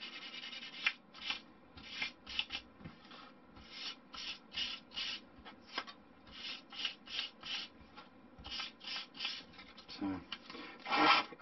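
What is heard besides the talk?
sanding a balsa wood fin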